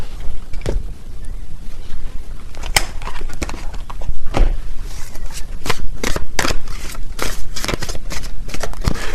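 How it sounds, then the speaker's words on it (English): Tarot cards are shuffled and riffled in repeated quick, papery bursts, close and fairly loud throughout. "Let me get a few more tarot cards here."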